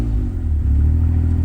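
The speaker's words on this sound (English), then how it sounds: "Let's give it a rev with no lights on, and then let's give it a rev with lights on." A Suzuki Alto Works engine revving up at a standstill, a loud, rough low-pitched drone that climbs steadily in pitch over a second and a half, heard close with no talk.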